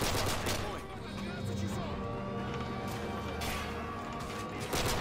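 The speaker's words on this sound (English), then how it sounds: "There's some pistol action here." Pistol shots from the Modern Warfare campaign mission Hunter Killer, heard as repeated sharp game gunfire bursts mixed with other in-game noise, with a person talking over it.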